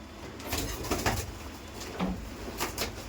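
Female Giribaz pigeons giving soft, low cooing in short repeated phrases, faint and close, with a light rustle of movement in a quiet setting.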